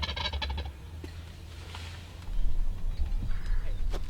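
A wild turkey tom strutting in a field gobbles twice, once near the start and again after a pause, distant and moderately faint over a low steady rumble.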